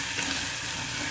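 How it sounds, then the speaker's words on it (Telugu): Ginger garlic paste sizzling in a hot pan for a curry, a steady, close, bright hiss with no voices. "ఈ అల్లం వెల్లుల్లి పేస్ట్ కొంచెం ఫ్రై అయితేనే బాగుంటుందండి"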